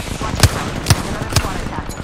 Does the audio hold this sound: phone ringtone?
no